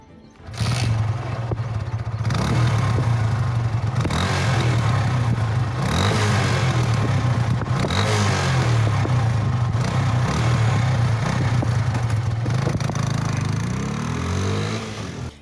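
A TVS Fiero motorcycle engine and exhaust running close by, a steady thumping idle with several throttle blips rising and falling, heard alone without talk.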